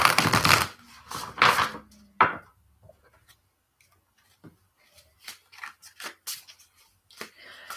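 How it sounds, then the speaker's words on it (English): Tarot cards riffled and shuffled in a few quick bursts, followed by lighter scattered snaps and taps of cards being handled close by. "I'm really going to give the deck a good shuffle this time."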